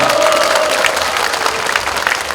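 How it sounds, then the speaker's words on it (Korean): An audience applauding at a political event, a Korean lawmaker's constituency report meeting in Yeongju, with dense, loud, sustained clapping from a crowd throughout. "좋은 말씀 해주신 6분에게 다시 한번 뜨거운 박수 부탁드리겠습니다."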